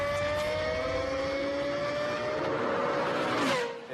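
A Lexus LFA's high-revving V10 engine screams loudly and steadily throughout, holding a high, sustained pitch that dips near the end as the revs fall away.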